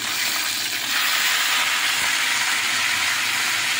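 Spinach hitting hot oil in a wok, already spiced with panch phoron and fried lentil dumplings, gives a loud, broad, steady sizzle and hiss that holds evenly for a few seconds, with no voices.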